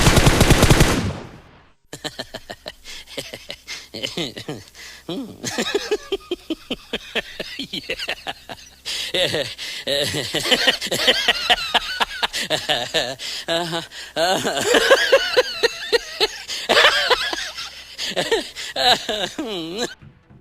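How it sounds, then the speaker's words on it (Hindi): Rapid automatic gunfire in a PUBG Mobile match on Erangel, loud dense bursts and long rattling strings of shots throughout, with someone talking over the shooting. "कवर फायर दे देने की कोशिश करता हूँ यार"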